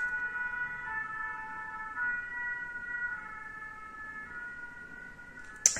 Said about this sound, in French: il y a les pompiers qui passent